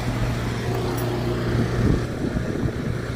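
A car engine left idling, a steady low hum with a tonal drone running unbroken and fairly close, with faint clatter and shifting low rumble over it and no voices.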